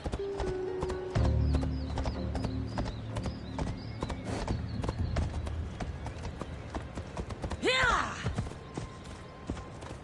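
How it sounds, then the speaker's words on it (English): A horse in a video game trots with steady rhythmic clip-clop hooves close by, then lets out a loud whinny near the end, while a voice speaks over the hoofbeats. "I need to take this horse either to Adonis or to the stable boy."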